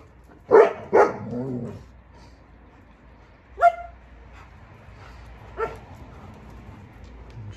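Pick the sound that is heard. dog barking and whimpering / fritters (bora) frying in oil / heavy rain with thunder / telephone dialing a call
dog barking and whimpering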